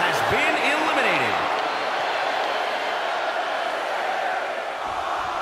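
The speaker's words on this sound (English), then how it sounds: "Taking a moment to get pumped off of this crowd's incredible energy." A steady, loud roar of arena crowd cheering fills a WWE 2K22 Women's Royal Rumble wrestling match, holding level throughout with a faint voice rising briefly near the start.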